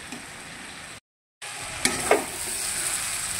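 Kachur lati, taro stolons, fry in a pan and are stirred, giving a steady close sizzle with a couple of sharp scraping stirs after a brief cut to silence.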